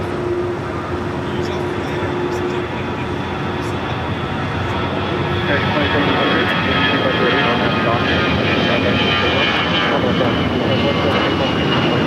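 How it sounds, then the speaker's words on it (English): Boeing 787-9 Dreamliner at LAX, its engines building into a loud, sustained broadband roar that swells in the second half, with faint voices underneath. "787-9 Dreamliner."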